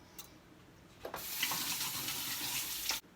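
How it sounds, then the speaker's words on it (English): A kitchen tap runs into a sink for about two seconds as something is rinsed off. The water gives a steady, close splashing rush, then shuts off abruptly. "Let me just rinse this off real quick."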